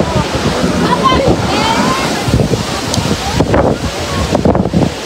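Strong gusts buffet the microphone in loud, uneven bursts, mixed with a rushing wash like surf, while people talk nearby.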